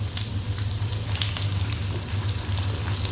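Potatoes fry in a pan alongside chicken liver adobo, a steady close sizzle with scattered crackles and pops over a low hum of the stove fire.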